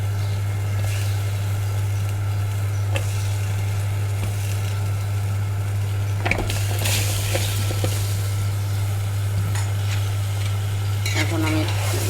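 Bottle gourd cooked with small shrimp, sizzling steadily in a pan under a constant low hum, with a few spatula scrapes and knocks as it is stirred.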